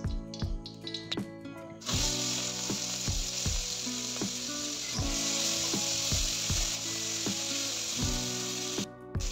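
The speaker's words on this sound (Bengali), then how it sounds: "এবার আমি নুন হলুদ মাখিয়ে ভেজে নেব চিংড়িগুলোকে।" Prawns coated in salt and turmeric fry in a pan with a continuous loud sizzle, broken by regular wooden clicks and scrapes from stirring, and no one speaking.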